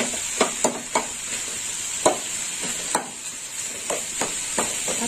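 Snake gourd sizzling in a hot pan under a steady oily hiss, with a spatula tapping and scraping against the pan in a loose rhythm, about ten strokes.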